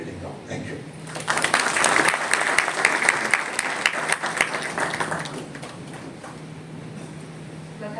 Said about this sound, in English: can we have a big round of applause once again, please?